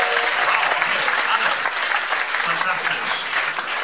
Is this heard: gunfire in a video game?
no